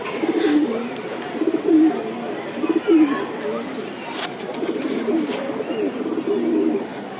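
Racing pigeons coo repeatedly at a pigeon tournament in soft, low, throaty bursts close by, with some background rustling and a person speaking intermittently.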